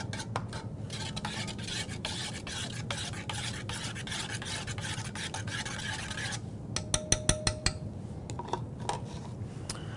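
Barbecue espresso rub being stirred into a buttermilk mix in a bowl, a continuous scraping, rasping rhythm of utensil strokes up close, ending with a few sharper taps and clinks.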